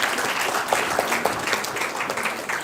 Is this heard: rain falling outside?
no